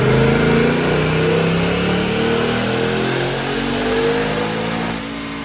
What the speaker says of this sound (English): let's check out those dyno pulls